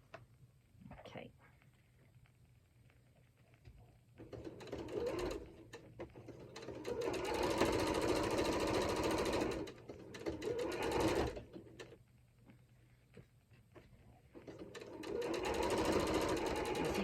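A sewing machine runs in bursts along a cushion edge, a fast mechanical whirr and clatter that starts, stops and restarts over the quiet room, with a brief voice early on.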